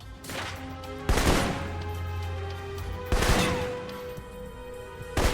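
Assault rifle fire in the video game Alpha Protocol, with loud sharp bursts of shots at about 0.3, 1.1, 3.1 and 5.2 seconds, each ringing out over a steady low game hum.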